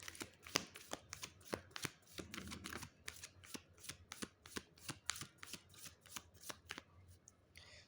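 Tarot cards being shuffled by hand, a steady run of crisp, close slaps and riffles, quiet and alone with no talking.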